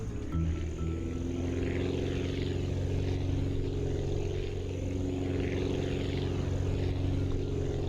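A propeller airplane takes off in the flight-building game Aviassembly, its engine a steady, loud droning hum with a throbbing low rumble that holds evenly throughout.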